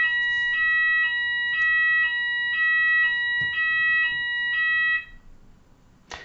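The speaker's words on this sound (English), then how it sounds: "I do apologise for that alarm." An electronic alarm beeping in a loud, regular pulsing pattern of about eight bright, tonal bursts, then abruptly stopping, leaving a quiet room with a faint click at the end.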